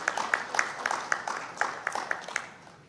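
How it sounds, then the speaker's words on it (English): An audience at a parliamentary plenary assembly opening session gives a round of applause: sparse, distinct claps at a fairly regular rhythm, moderately distant, fading slightly toward the end. "May we kindly give a round of applause to our resource persons"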